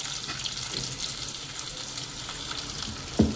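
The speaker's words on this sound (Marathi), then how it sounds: "कांदा ॲड करायचा आहे तेलात छान फ्राय करून घ्यायचं आहे" Onion, garlic and asafoetida frying in hot oil for a paneer dish, giving a continuous even sizzle at moderate level with a single sharp clink of a utensil near the end.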